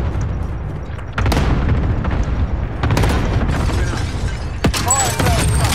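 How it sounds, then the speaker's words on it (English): Explosions from a cluster strike in Call of Duty: Modern Warfare, a string of loud, booming blasts with a sharp burst near the end, set against constant battlefield noise. "Enemy cluster strike!"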